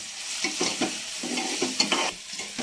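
Onions sauté in a hot pan for an okra (bhindi) dish, with a steady sizzle broken by repeated scraping stir strokes, close and fairly loud, with no talking.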